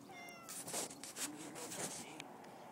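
A cat meowing out on a house roof, several plaintive meows in quick succession at moderate distance, with a person talking softly nearby.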